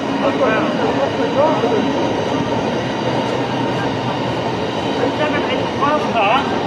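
A 12-car train passing platform 1 at Kentish Town, a loud continuous roar of wheels and rolling stock with faint squeals, while people talk over it.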